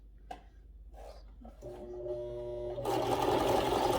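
A sewing machine stitching on a Christmas craft project starts up after a few quiet taps, running in a rapid whir that grows louder and steadier toward the end.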